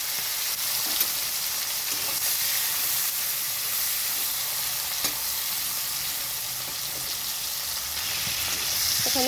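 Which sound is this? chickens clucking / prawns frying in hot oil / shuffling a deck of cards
prawns frying in hot oil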